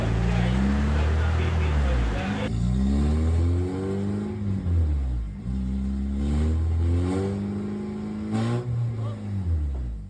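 A Honda Civic, front end raised on a jack, revs repeatedly in rising and falling sweeps during a 0 to 100 speedometer test, loud and close, with a person talking over the engine.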